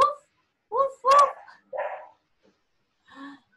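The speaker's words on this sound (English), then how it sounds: "I can hear the dog." A dog gives a few short, close barks in quick, uneven bursts, with a pause before a final softer yip.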